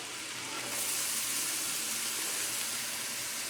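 Mushrooms sautéing in a lot of butter in a pan, giving a steady, close, broadband sizzle that hisses evenly throughout without pauses.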